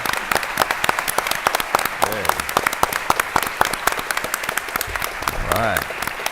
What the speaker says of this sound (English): let's clap for everybody else and thank them